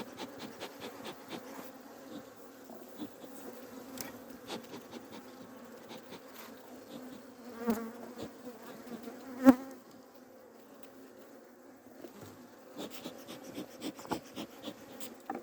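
Honey bees buzzing steadily around an open hive during an early spring inspection in Adana, a dense continuous hum with a few louder passes close by and no talk.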